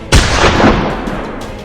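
A loud, sharp gunshot rings out on an army 15th Division parade ground, its blast hitting hard and then trailing off in a long reverberant decay, with no voices.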